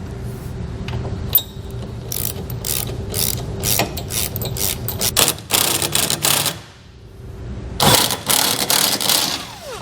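Ratchet wrench clicks in rapid bursts as trailer hitch bolts are tightened on a 2000 Chevrolet Silverado, close and loud, with brief pauses between runs of ratcheting and short silent gaps.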